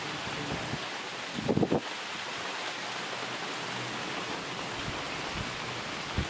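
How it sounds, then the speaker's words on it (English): Steady, even hiss of rain falling throughout, with a brief louder patter partway through and no talking. "It's raining,"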